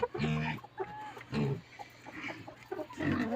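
Several chickens cluck and murmur close by, short throaty calls overlapping in an uneven rhythm.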